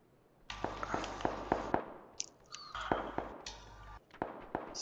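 Rapid bursts of PUBG gunfire on the Sanhok map crack out in several sharp volleys, some close and loud and others thinner and farther off, with brief gaps between the shots.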